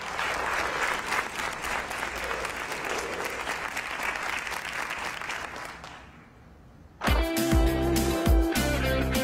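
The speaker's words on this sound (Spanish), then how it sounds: "Recibamos con un fuerte aplauso al primer equipo." An audience claps loudly and continuously to welcome a team, the applause fading out after about six seconds before music starts abruptly.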